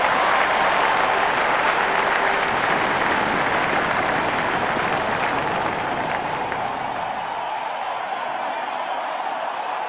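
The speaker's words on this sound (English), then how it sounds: "Crowd going mad here." A cricket video game crowd cheers loudly and continuously in a match between Australia and India, a dense roaring wash of noise that holds steady and fades slightly toward the end.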